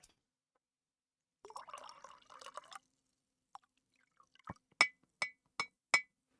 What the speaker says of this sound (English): I'm going to pour myself a little more coffee.